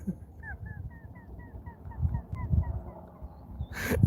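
A bird perched on a branch calls in a steady series of short, evenly spaced chirps, fairly faint against low rumbling background noise, with a louder sound at the end.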